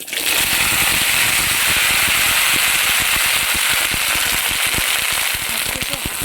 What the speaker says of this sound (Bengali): এখানে আমি ভেন্ডি আলু কেটে রেখেছিলাম, তো দিয়ে দিচ্ছি